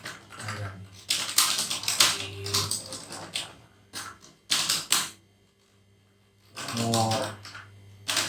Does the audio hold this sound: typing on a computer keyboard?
yes